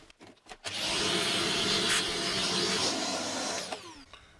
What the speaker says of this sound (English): Get the vacuum on that.